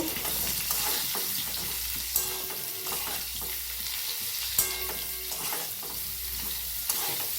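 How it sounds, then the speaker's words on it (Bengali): Raw mango pickle with sugar, turmeric and chili stirred in a pan, a steady scraping and sizzling texture with a few sharp utensil knocks against the pan, close and continuous with no talking. "এবার এটাকে ভালো করে একটু নেড়ে নেব"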